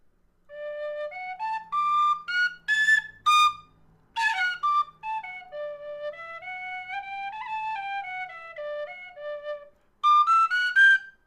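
A high D tin whistle climbs a scale from bottom to top, clear, close and fairly loud, each note held then stepping upward in steady succession, with a brief flurry of quicker notes partway and a final high burst.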